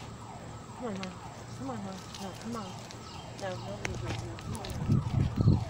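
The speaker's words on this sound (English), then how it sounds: "it's probably an ambulance" A wailing ambulance siren rises and falls repeatedly in the distance, steady and moderately loud, while a person speaks briefly nearby toward the end.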